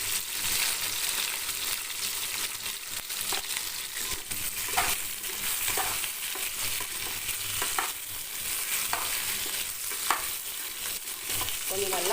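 Tamarind goes into a pan with spices and sautéed ingredients for a dried fish and eggplant curry, bringing a continuous sizzle with frequent scraping stirs and occasional sharp clinks of a spoon, close and steady without speech.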